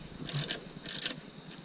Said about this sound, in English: We'll just go ahead and loosen up our axle bolt.